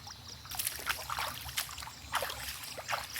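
Shallow creek water trickling and splashing in quiet outdoor surroundings, soft irregular gurgles and small bursts of flow close by at low level.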